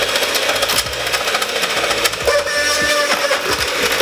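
An electric mixer whisks cream cheese for a baked cheesecake, running loudly with a rough, buzzing motor whir and clattering beater knocks against the bowl.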